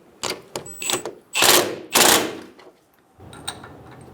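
A ratchet or power tool snugs the nut on a CV axle bolt of a 2000-2007 Ford Focus, a few sharp mechanical bursts and whirring spins with short gaps, loud and close.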